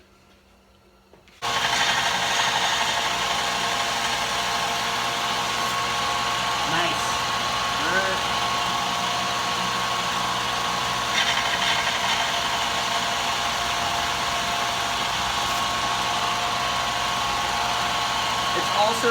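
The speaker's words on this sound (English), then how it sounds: "once we go over that with the 1000 grit sanding belt" A belt sander with a 1000 grit belt whirs continuously at high speed, with a steady grinding hiss as metal is sharpened against the belt.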